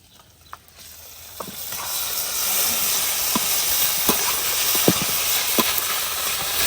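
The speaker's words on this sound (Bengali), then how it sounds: "এবারে এই কষানো মশলার মধ্যে মাংসটা দিয়ে দিচ্ছি" Chicken pieces go into fried spice masala for chicken khichuri, setting off a loud steady sizzle and hiss with occasional sharp pops and spatters.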